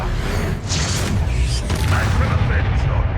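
A Bombarda explosion spell cast in Hogwarts Legacy gives a heavy booming blast, loud and rumbling, with game combat noise and a voice speaking over it.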